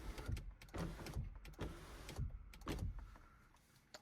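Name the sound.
Audi A3 electric sunroof motor opening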